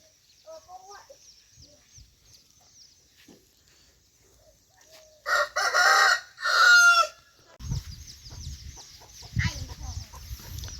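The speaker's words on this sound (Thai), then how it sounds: "ก็เลี้ยงเป็ดเลี้ยงไก่อยู่" A rooster crows loudly and close in a farmyard where ducks and chickens are kept, with a long harmonic call in the middle. Hens cluck softly before and after it, and faint voices are heard in the background.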